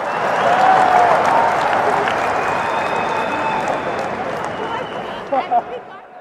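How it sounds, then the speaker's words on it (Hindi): Dense applause and clapping from a crowd at a Congress political rally, loud at first and slowly tapering, with a few shouted voices near the end. "ठोको ठोको ताली ठोको"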